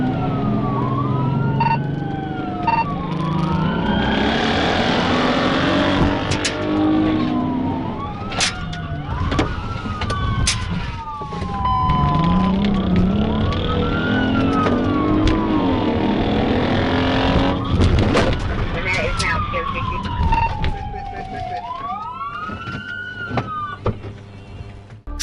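A police car siren wails continuously through a high-speed chase, sweeping up and down in repeated cycles over engine and road noise, loud and close throughout.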